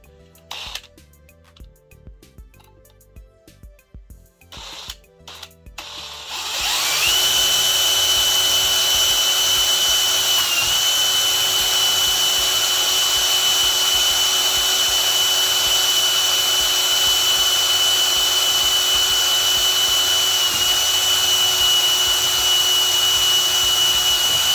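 An electric drill motor spins up after a few seconds of quiet handling noise and runs at a steady high whine for a long stretch, drilling into an FJ40 spare tire carrier, loud and close with no talk.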